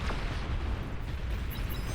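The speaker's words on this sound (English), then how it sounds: "Explosion in the back here." A booming explosion in the real-time strategy game Beyond All Reason, a heavy rumbling blast with continuous low battle noise, loud and without voices.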